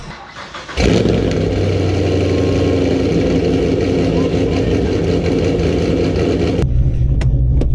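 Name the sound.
cammed Camaro Z28 engine revving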